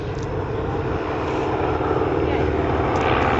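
Fieseler Storch propeller aircraft flying past at the Biggin Hill airshow, a steady droning engine and propeller hum that holds loud and continuous throughout, with an announcer talking over it.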